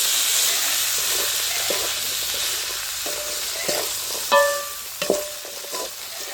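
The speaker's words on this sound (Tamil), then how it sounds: "வெங்காயம் பச்சை மிளகாய் உள்ளி கருவேப்பிலை வெந்தயம் பெருஞ்சீரகம் கடுகு எல்லாம் சேர்த்து வதக்கி போட்டோம்" Onions, green chillies, garlic, curry leaves, fenugreek, fennel and mustard seeds sauté in hot oil with a steady sizzling hiss, while a spoon scrapes and clinks against the pan several times.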